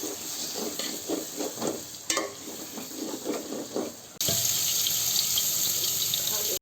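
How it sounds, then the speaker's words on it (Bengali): Covered pigeon meat is stirred in a pan, with rhythmic scraping and soft sizzling, then a sudden, louder, steady hiss takes over for the last couple of seconds. "এখন ঢেকে রাখা মাংসগুলো নেড়ে দিব।"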